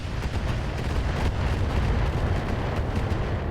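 Mech weapons fire in the RogueTech battle game, a catapult mech shooting at an Awesome mech, as a dense continuous rumble of explosive booms and blasts filling the whole stretch at steady loudness, with no talk.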